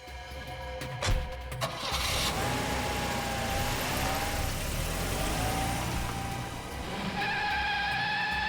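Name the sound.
car engine starting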